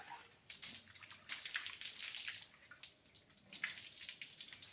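Water splashes and gushes steadily as a calf is bathed, a continuous hissing pour with small splatters, close and fairly quiet.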